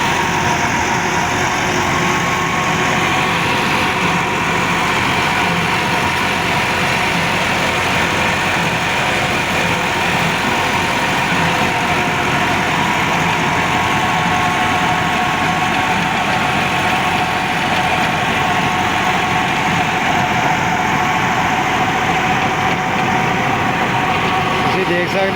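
A Massey Ferguson 375 tractor, 2010 model, runs steadily while driving a 54-blade rotavator, giving a continuous close engine drone with mechanical vibration throughout.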